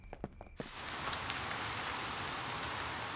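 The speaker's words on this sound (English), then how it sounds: "It has been raining all night," Steady rain falls at night over a garden, starting after a few scattered drops and then filling in as a dense, continuous hiss of drops on surfaces, fairly close and even.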